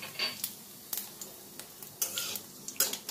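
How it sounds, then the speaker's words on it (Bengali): Cumin, bay leaves and dried chilies frying in oil in a pan, giving a steady soft sizzle broken by several light clinks and scrapes of a utensil over about three seconds. "ফোড়নটা একটু ভাজা ভাজা করে নেব।"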